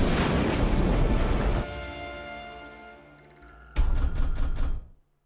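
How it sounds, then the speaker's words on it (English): A large explosion in the action game Just Cause 3, a loud broadband blast that rumbles and decays, then a second sharp burst of debris and crackling near the end. "Oh, although it's one hell of an explosion."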